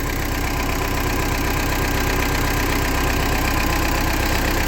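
An MTZ-82 tractor diesel engine idles close by, a steady, dense mechanical rumble with a fine rapid knock, unchanging and loud throughout with no voices.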